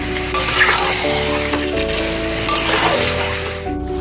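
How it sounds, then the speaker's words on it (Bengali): Spices and onion sizzle and fry in oil while being sautéed (kosha) for biryani, a steady crackling hiss with occasional stirring scrapes. "এটা দিয়ে এবার কষা হবে। এবার চটপট তেল বার করতে হবে এটা থেকে।"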